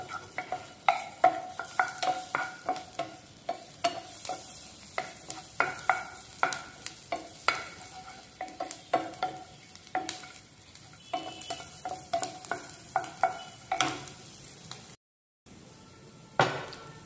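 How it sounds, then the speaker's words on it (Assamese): Garlic frying in a little butter in a pan, stirred with quick scraping strokes in a steady, busy rhythm over a soft sizzle, close and fairly loud, with a brief silent gap near the end and no talk. "অকণমান নহৰুখিনি ভাজি লওঁ"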